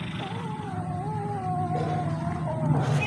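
A cat yowls in a long, wavering, drawn-out cry, loud and close, over a low background rumble.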